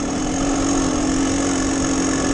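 Two-stroke dirt bike engine running steadily on dirt and rocky ground, loud and close with a constant droning tone and no speech.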